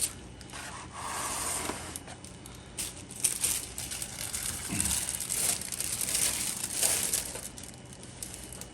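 A whole raw turkey pushed into a plastic roasting bag, giving continuous close crinkling and rustling of plastic with rubbing and shifting for several seconds, no speech.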